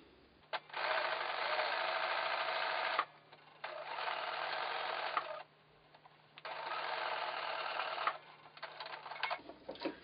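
A sewing machine thread painting on a quilt runs in three steady buzzing stitching bursts, each a couple of seconds long with brief pauses between, close and clear with no talking.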